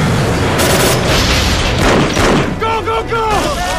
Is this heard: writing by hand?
no